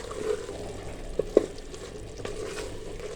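Minced meat cooking with potatoes and peas in a pan, a steady low sizzle with a couple of sharp clinks of a spoon stirring, close and fairly quiet, no talking.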